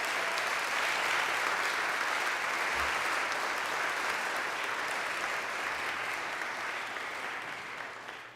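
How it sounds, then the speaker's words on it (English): A large audience applauds steadily at a children's choir fall concert, dense continuous clapping that stays loud throughout and tapers slightly at the very end. "Let's start by clapping."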